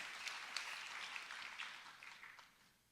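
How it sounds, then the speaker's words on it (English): Audience at a city's State of the City 2025 address applauds, a steady spread of clapping from many hands at moderate distance that fades out toward the end. "go ahead and clap for that."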